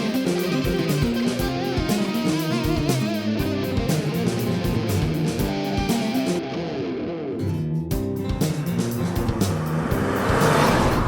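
A 2016 Peugeot 208 1.2 PureTech 110 with EAT6 automatic drives steadily, its small three-cylinder engine humming loudly and continuously with shifting pitch under mixed music, no speech.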